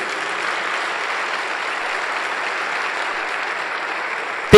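An audience at a pastors' gathering inside a church claps in sustained, dense applause at an even level throughout, with a sharp knock right at the end.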